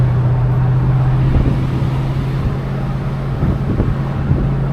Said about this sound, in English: is the exhaust note from this engine.